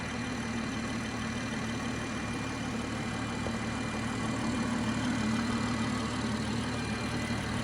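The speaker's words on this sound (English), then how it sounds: "Beautiful smooth engine." A BMW 540i xDrive's 3-litre twin-scroll turbo engine idles smoothly and steadily, a low even hum held throughout with no talk over it.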